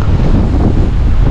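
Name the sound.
strong wind on the water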